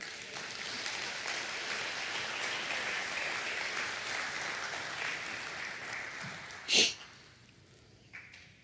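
A church congregation applauds during a sermon, with a steady wash of clapping for about six seconds before it fades, followed by a brief sharp burst and quiet room tone.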